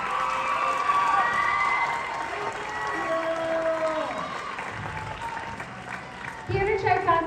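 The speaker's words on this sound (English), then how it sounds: "Let's give them another round of applause." An audience at a high school winter concert applauds a school ensemble, with sustained clapping under a speaker's voice, fading briefly before a burst of louder noise near the end.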